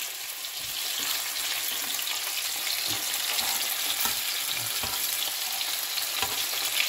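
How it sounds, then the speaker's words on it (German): Beef sears in a heat-resistant pan, giving a steady close sizzle and crackle with scattered soft pops, alone with no voices. "Von beiden Seiten schön anbrutzeln"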